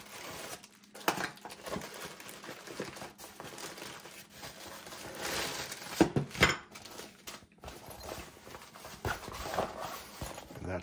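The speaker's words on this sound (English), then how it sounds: "Let's unzip that and take the pieces out." A KingJoy camera tripod's fabric satchel is unzipped and the tripod pieces are pulled out, with close rustling, crinkling and a few light knocks and clinks in irregular bursts.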